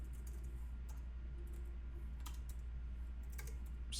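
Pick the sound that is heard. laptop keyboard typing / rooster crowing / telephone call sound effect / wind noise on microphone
laptop keyboard typing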